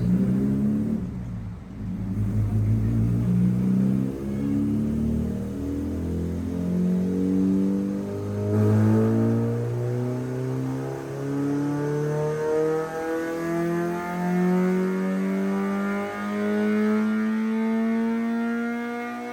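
A Honda D16 engine revs hard on a dyno in a tuned grid race challenger car on a Fueltech ECU. The engine sound is loud and steady, with rising harmonic sweeps through repeated pulls and no talk.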